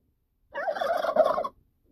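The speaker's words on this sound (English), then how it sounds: "Turkey." A turkey gobbles in a single rapid, warbling burst of about one second, close and clear against silence.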